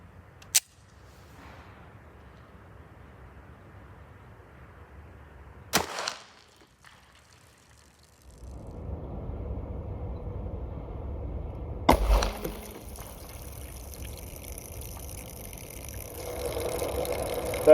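A .45 ACP pistol loaded with 205 grain Federal Syntech bullets fires at an outdoor range: sharp single shots ring out separately at a distance, with quieter stretches and background noise between them.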